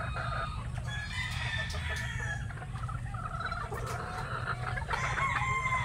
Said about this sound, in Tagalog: Ang inahin natin.